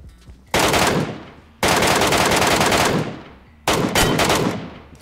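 Machine-gun fire in the mobile shooter PUBG Mobile Metro Royale: three long, loud sustained bursts separated by brief pauses, with no talking over it.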